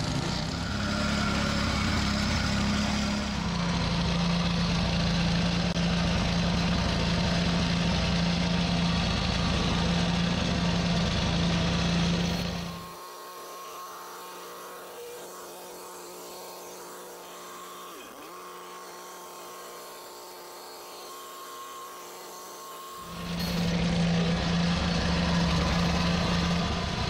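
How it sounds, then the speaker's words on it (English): A plate compactor engine used for concrete work runs loud and steady at a throbbing idle, cuts to near quiet for about ten seconds, then starts up again just as loud. "So we'll go and get the whacker out."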